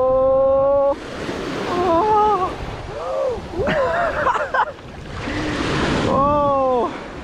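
Sea water washing in steady broadband surges at an abandoned seaside resort, with high wavering cries rising over the wash in several bursts.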